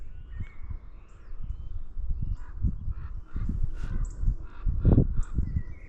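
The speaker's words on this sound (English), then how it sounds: "those right there are crows." Several crows caw at a distance, scattered harsh calls over a low rustling, gusty background.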